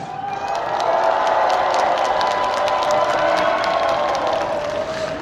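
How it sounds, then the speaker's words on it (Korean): A concert crowd at the Sangju dried-persimmon festival's year-end music show cheers and claps for several seconds. The shouting and applause are loud, dense and sustained, holding steady before easing slightly at the end. "함성 한 번만 부탁드릴게요."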